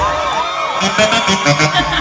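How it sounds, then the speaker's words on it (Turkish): Wedding guests, girls among them, scream and cheer loudly in a festive crowd, sustained shouting with bursts of whoops over music and voices. "Kızlar çığlıklar geliyor."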